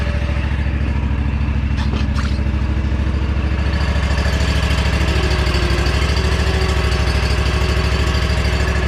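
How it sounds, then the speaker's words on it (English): A lawn mower engine runs steadily at close range while it slowly pulls another mower, giving a continuous loud, throbbing drone with no talk over it. "I'm gonna pull it slowly with my other mower."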